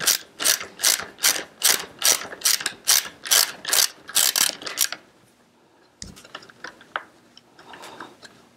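Ratchet turning the nut on a child car seat harness, about a dozen loud, close, rhythmic clicking strokes, followed by a pause and a few quieter scattered clicks and handling noises.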